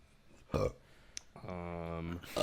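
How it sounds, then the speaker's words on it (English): A long, drawn-out burp sounds close to the microphone, with a short noise before it and another right after. "I burped too."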